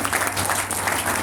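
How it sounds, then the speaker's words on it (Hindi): An audience claps loudly for family members at a doctors' group event, a dense and continuous burst of applause that lasts only a moment. "उनके लिए एक बार जोरदार ताली चाहेंगे।"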